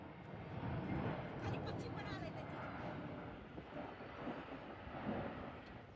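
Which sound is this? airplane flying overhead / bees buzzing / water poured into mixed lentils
airplane flying overhead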